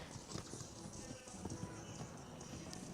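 Hooves of a show-jumping horse on an arena course at a CSI5* 1.45m special two-phase class, a steady clip-clop running the whole time under arena noise and background talk.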